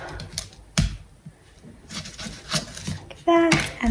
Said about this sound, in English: So you can just safely cut these lemons in half